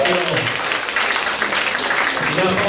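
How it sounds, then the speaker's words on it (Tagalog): A church congregation claps loudly together for a sustained stretch, a dense, steady applause filling the room, with voices mixed in beneath the clapping. "Yung buhay at malakas na palakpak para sa ating pinakamamahal na Panginoon."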